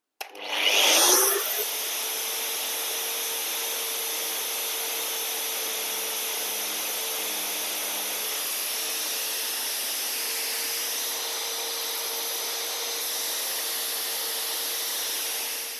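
A running inoXpipe pipe beveler machine gives a steady, loud, high-pitched whine after a brief harsh burst at the start, holding an even tone throughout with no talking.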